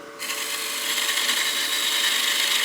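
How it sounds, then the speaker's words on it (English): A skew chisel cuts spinning wood on a lathe while shaping a small bat house ornament, giving a steady, close, bright hiss that holds without a break after a quiet start. "Use the edge of that skew rolled up on edge, a few degrees off the rest"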